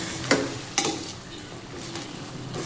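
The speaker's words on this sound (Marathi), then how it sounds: "मिक्स करून घेया" A mixture is stirred in a pan, a steady frying hiss punctuated by two sharp spatula scrapes early on and softer strokes later.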